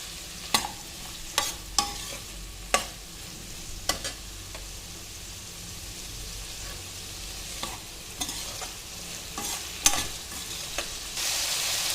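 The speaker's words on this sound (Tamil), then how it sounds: "நல்லா வதக்கிக்கலாம்." Garlic fries in hot oil with salt in a pan for tamarind rice, a soft steady sizzle broken by repeated sharp scrapes and taps of a spoon stirring, close up and without speech.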